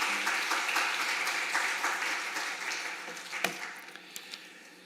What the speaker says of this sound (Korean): 나올 때 크게 환영의 박수로 맞이해 주시면 감사하겠습니다.